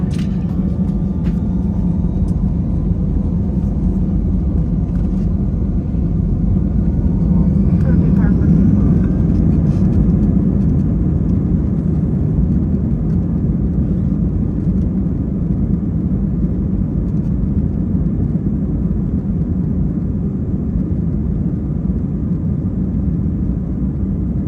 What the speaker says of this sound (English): The spool up, takeoff, and airport stats are coming up next.